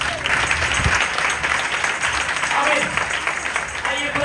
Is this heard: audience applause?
yes